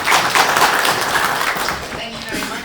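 An audience welcomes a speaker at a conference with dense, loud applause, a continuous wash of many hands clapping that thins slightly toward the end, with voices mixed in.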